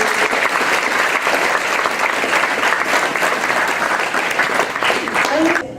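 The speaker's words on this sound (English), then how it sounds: "Can I have a huge round of applause?" Loud, sustained round of applause from an audience at a Jaipur international school event, dense clapping filling the hall steadily with a few faint voices near the end.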